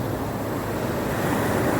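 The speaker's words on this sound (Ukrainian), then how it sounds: "Відкриваємо очі і дивимось на хвилі" Steady sea surf rolls in a continuous dense wash, loud and close with a windy, blustery edge and no voices.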